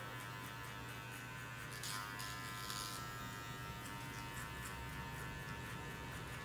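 Electric hair clippers fitted with a half-size guard comb buzz steadily while cutting a men's fade haircut, a constant close hum with slight shifts as the blade moves through the hair.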